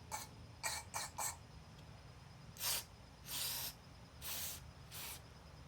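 Several short bursts of Lucas Oil aerosol contact cleaner hiss onto a Tecumseh lawn mower carburetor, quick and clipped at first, then longer puffs, close by and otherwise quiet.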